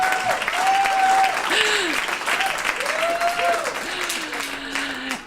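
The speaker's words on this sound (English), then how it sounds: "Please clap." An audience claps steadily throughout a talk, a sustained wash of applause with sliding whistles or cheering voices rising above it, fading slightly at the end.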